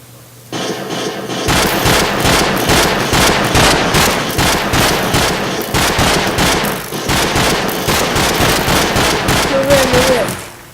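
An AK-47 in Minecraft fires rapid automatic bursts, loud, close and nearly continuous, with a short break partway through before the firing resumes.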